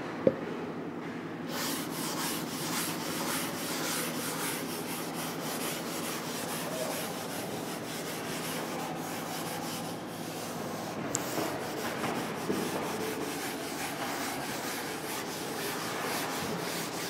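Steady, close rubbing of a board being erased by hand during a naval ship engineering lecture, a continuous scratchy swishing that lasts the whole stretch with almost no talk.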